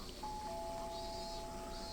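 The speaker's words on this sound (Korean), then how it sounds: "초인종을 눌러볼까?" A doorbell chimes in the VR dating simulation game Project M, a clear sustained two-tone ding under a steady background hum, the second tone joining shortly after the first and both ringing on for the rest of the moment.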